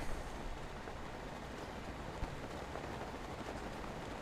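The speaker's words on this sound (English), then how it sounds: "It's raining!" Steady, even hiss of rain falling continuously in The Legend of Zelda: Breath of the Wild, with no voices and only a faint, brief tap partway through.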